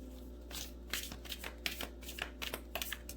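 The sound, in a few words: shuffling tarot cards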